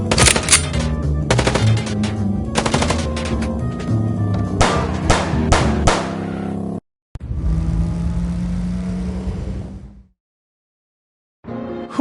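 Video game gunfire in Chicken Police: rapid loud bursts of shots in the first few seconds, then a steady engine-like drone that cuts off into silence, with no talk.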